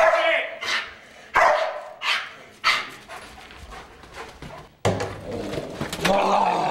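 A Hall County Sheriff's Office police K-9 barks repeatedly in loud bursts during a handler demonstration, with people talking and calling out over the barking.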